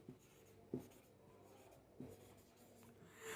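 Pen or pencil writing a word on paper, soft close scratching strokes with a couple of firmer taps, quiet and without speech.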